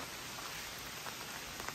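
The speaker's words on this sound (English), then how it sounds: "It's raining." Light rain patters steadily on surfaces outside a trail lean-to in the Vermont woods, a soft, even hiss of drops heard faintly from under shelter.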